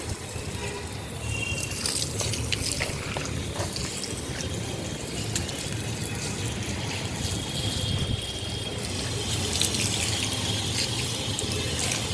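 Water runs steadily onto a sunny rooftop slab, a continuous close splashing rush with a faint trickle on top, holding an even level throughout without any voices.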